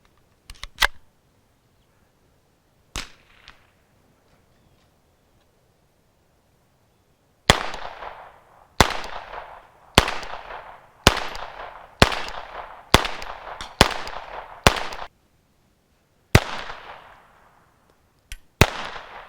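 vz61 Skorpion submachine gun firing at an outdoor range: a few isolated shots, then a string of sharp semi-spaced rounds with pauses, each a loud crack with a short decay, ending in a couple of final shots.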